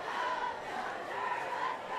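Packed, sold-out crowd in the stands at a high school football game between Bishop Miege and St. James Academy, a dense steady roar of many voices cheering and shouting, loud and continuous throughout.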